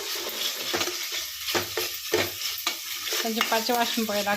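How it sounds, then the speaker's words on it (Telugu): Ginger garlic paste fries in a pan with a steady close sizzle while a spoon stirs it in quick repeated scrapes. "అల్లం వెల్లిపాయ పేస్ట్ వేసుకున్నాం. ఇది కొంచెం పచ్చి వాసన పోయేదాకా వేయించుకొని"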